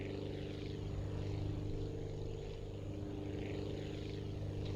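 In the flight game Aviassembly, a propeller plane's engine runs with a steady droning buzz and layered tonal hum, held at an even, moderate level throughout with no speech.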